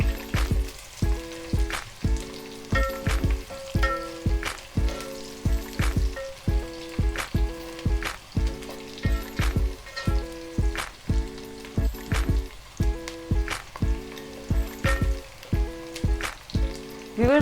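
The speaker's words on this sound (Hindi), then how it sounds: "और इन तीनों चीज़ों को अच्छे से भूनेंगे।" Garlic sizzling and frying in a hot pan as the base for a pakora curry, a steady crackling hiss running throughout and close up, with regular rhythmic scraping or stirring strokes and no voices.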